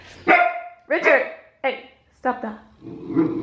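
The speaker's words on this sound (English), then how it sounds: "that's my dog." A dog barks loudly and close by, five sharp barks spaced about half a second apart, the last one trailing into a rough growl.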